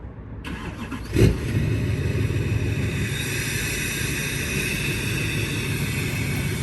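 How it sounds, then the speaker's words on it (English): A car engine cold-starts with a cranking burst, catches with a sharp rev, then settles into a loud, rough, steady high idle close to the microphone. "Let's get that cold start. See what it sounds like."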